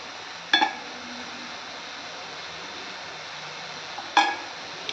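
Two brief clinks of a spoon against a pan as vegetable curry with coconut and peanut powder is stirred, over a faint steady background hiss.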